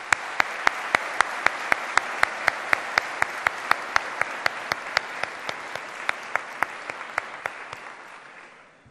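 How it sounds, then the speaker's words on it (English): Graduation ceremony audience applauding, heard as a steady wash of clapping with sharp, evenly spaced louder claps punctuating it, loud and close at first and gradually fading toward the end, with no talk. "join me in a round of applause to thank those who have supported you"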